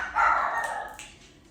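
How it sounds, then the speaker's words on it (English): A dog lets out one short, loud bark that trails into a whine, close by, with quiet room noise after. "Confirmation with my dog barking."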